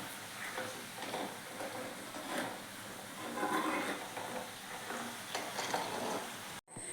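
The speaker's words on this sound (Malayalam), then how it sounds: "എണ്ണ തിളച്ചിട്ടുണ്ട് ഇത് മൂക്കണം മൂക്കുന്നിടം വരെ നമ്മളിങ്ങനെ ഇളക്കിക്കൊണ്ട് നിൽക്കണം" Herbal oil made with the medicinal plant changalamparanda boils in a pan while it is stirred steadily, giving a faint continuous sizzle and bubbling with soft scraping, no voices.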